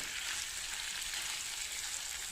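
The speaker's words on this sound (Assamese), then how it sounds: "এনেকৈ মাংস বনি আছে" Meat frying in a pan with onion, garlic and ginger makes a steady, even hiss that stays fairly quiet and constant from start to finish, with no talking.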